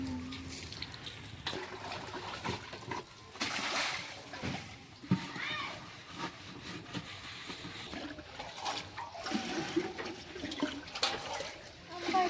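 Water splashes and trickles in uneven bursts as water is fetched, with sloshing and pouring sounds, some nearby clatter, and voices faintly in the background.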